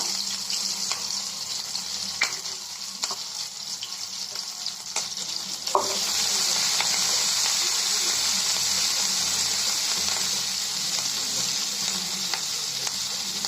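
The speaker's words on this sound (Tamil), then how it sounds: "வெங்காயம் கொஞ்சம் வதங்கட்டும் வெங்காயம் கொஞ்சம் வதங்கணும்" Onions fry in a pan with chopped green chillies, a constant, bright sizzle and occasional stirring scrapes, the hiss growing stronger and steadier halfway through.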